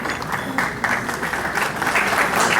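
Steady applause from a concert audience at a live music tribute, after a tabla performance, dense clapping that holds at an even level throughout.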